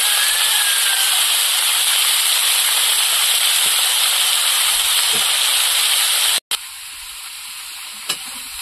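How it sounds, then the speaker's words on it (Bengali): Mixed vegetables — kohlrabi, green tomato, eggplant, beans and slit green chilies — with salt and turmeric sizzle and hiss loudly in a hot pan, a steady frying roar that cuts off abruptly near the end and returns quieter. "লবণ হলুদ দিয়ে সবজিটা একটু কষিয়ে নেব।"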